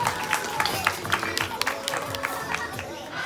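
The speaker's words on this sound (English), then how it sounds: "applause for Max." Audience applause at a parrot show in a hotel setting, lively crowd clapping with distinct claps and chatter, steady and moderately close.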